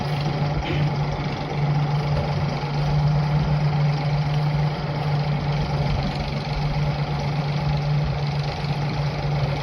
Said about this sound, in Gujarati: મિની ટ્રેક્ટર હાલ્યું આવે છે જોઈ શકો છો